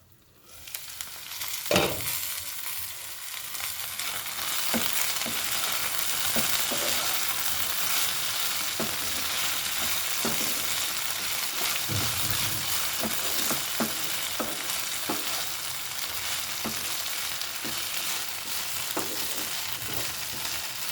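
Okra (bendakaya) fry cooking on a low flame in a lidded pan, a continuous soft sizzle and crackle with scattered small pops, steady and close with no voices.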